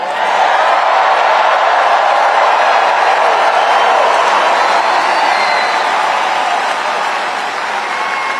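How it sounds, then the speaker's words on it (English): A huge crowd at a Trump rally cheers and applauds in a loud, dense, unbroken roar of clapping and shouting that holds steady and fades slightly near the end. "Like this crowd. Look at this crowd."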